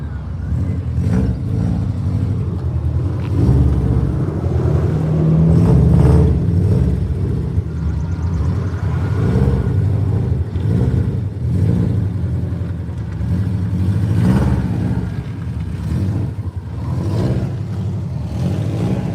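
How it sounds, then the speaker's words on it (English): A car engine revs repeatedly with a rough, rumbling, sputtering tone like a leaking exhaust, loud and near, rising and falling in bursts. "He's got an exhaust leak."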